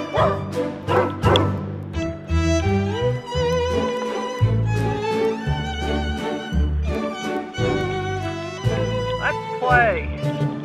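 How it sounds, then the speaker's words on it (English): Dogs playing in a dog run bark and yip in short, loud bursts at close range, mixed with people's voices talking and calling over them. "they're playing in the dog run."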